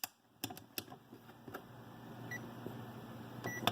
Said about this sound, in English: you're going to set your multimeter to continuity, okay? So it beeps.